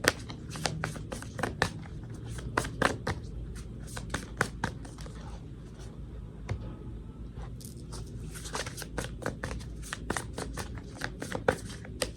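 Tarot cards are shuffled and drawn by hand close up, with a continuous papery riffle broken by frequent crisp snaps and slaps of cards.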